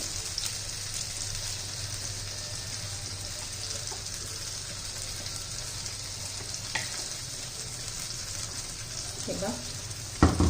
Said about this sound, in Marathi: चांगलं तेल सुटेपर्यंत आपण परतूया आता